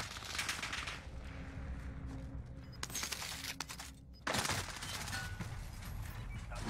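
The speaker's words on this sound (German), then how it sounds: "Dass sie alle drei auf die Typen schießen." Video game gunfire: bursts of rapid shots and rattling volleys, loud and close, broken by a brief lull before another dense barrage.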